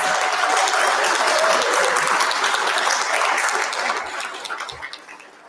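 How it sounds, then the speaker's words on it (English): At an evening fundraiser for a grief support center, a large audience gives another round of applause: thick, loud, continuous clapping that stays even for several seconds and then thins into scattered claps as it dies away. "Can we give them another round of applause?"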